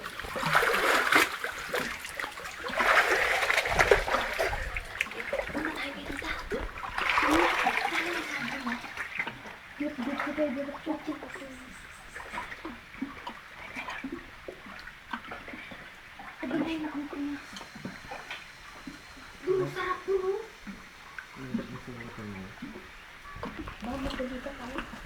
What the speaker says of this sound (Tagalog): Nandito po kami ngayon sa isang ilog na kuweba.